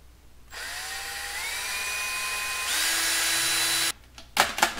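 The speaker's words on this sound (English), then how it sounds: "All you do is drill a 1/16 inch hole and stick in one end of the toothpick, break it off." Power drill boring a 1/16 inch hole to hold a toothpick shear pin: a steady, close motor whine lasting about three seconds that rises in pitch partway through, then cuts off and is followed by a few brief handling clicks.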